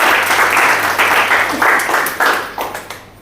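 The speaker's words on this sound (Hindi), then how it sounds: "मैं चाहूंगी इनके लिए जोरदार तालियां।" An audience in a hall breaking into loud applause, many hands clapping in a dense burst with rhythmic swells that taper off over a few seconds.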